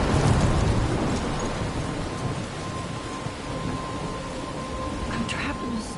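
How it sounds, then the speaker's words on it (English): Steady heavy rain and rumbling thunder from a thunderstorm in the video game Life is Strange, a dense continuous wash with low rolls throughout and some voice faintly mixed in. "I'm trapped in a storm?"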